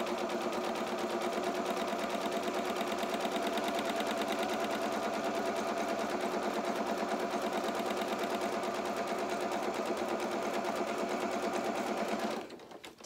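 A sewing machine runs a zigzag stitch along the frayable edge of fabric for a fisherman's top, a steady, close, rapid mechanical whir that holds evenly for about twelve seconds before stopping abruptly.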